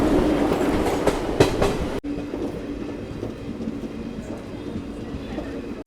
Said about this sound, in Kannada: ಬಸವ ಎಕ್ಸ್‌ಪ್ರೆಸ್ ಈಗ ಬಂದೈತೆ ರೀ ಕೆಂಗೇರಿಗೆ